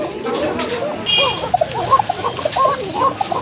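Pigeons in a seller's collection make soft chirps and coos, mixed with murmuring voices and background noise.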